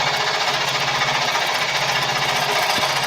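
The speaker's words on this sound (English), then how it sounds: "some of these saws get noisy when they first start cutting" A scroll saw cuts during a group scroll-off, giving a steady, loud, close buzzing rattle from the rapidly reciprocating blade that runs unbroken for the whole few seconds, with no voices.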